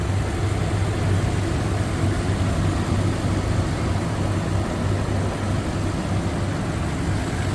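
The 5.7 engine of a Toyota Sequoia idles under the open hood with a steady, low, even rumble at moderate volume and no revving or other sounds.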